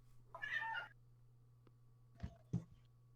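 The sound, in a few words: pet cat meowing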